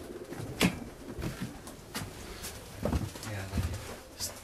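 Pigeons cooing softly inside breeding cages holding paired birds, low murmuring calls repeating against a steady indoor background hum.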